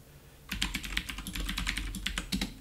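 Rapid keystrokes on a computer keyboard entering a root password during a FreeBSD 13.0 command-line installation, a close, steady burst of clicky typing that starts after a short quiet pause, with no voices.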